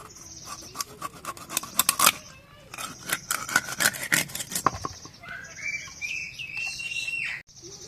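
Raw fish being cut and cleaned by hand, the belly rings trimmed away, giving scraping, rasping blade strokes in quick irregular bursts that come close and moderately loud, with a brief squeaky rubbing passage near the end.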